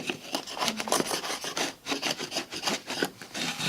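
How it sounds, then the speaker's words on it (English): A worn, dull chisel pares and scrapes across wood in a run of close, rasping strokes, rhythmic and fairly loud, with no one speaking. "So you can use a chisel. This is a sad looking chisel, but it is a chisel. Surprisingly, it cuts."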